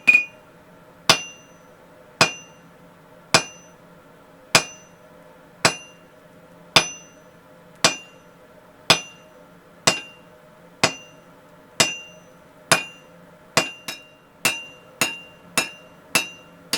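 A hammer strikes a drift being forged on an anvil, rounding off its corners: sharp ringing metallic blows at a steady rhythm about once a second, quickening into faster strikes near the end, with no talk.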